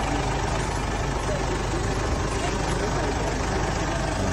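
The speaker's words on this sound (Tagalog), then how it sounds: "Dahil malakas yung makina." A loud engine idles in a steady, unbroken low rumble with broadband roar, droning continuously close by without change in pitch or rhythm.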